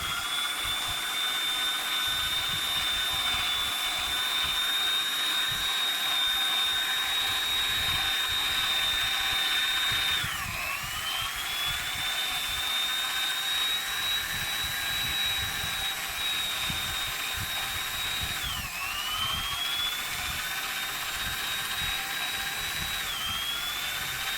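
An electric drill at its lowest speed spins a valve lapping tool continuously with a steady high whine, dipping and rising in pitch twice as the load changes, alongside a grinding rattle.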